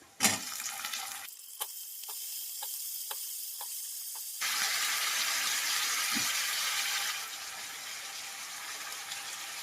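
Brinjal (eggplant) pieces fry in hot oil in a home kitchen, giving a steady sizzling hiss that swells louder partway through. A few regular ticking clicks and a brief sharp knock come early on, and no one speaks.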